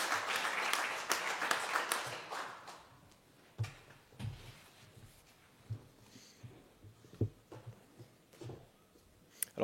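An audience at a tribute ceremony applauds, starting as a dense burst of clapping that quickly thins out to scattered individual claps and faint room noise.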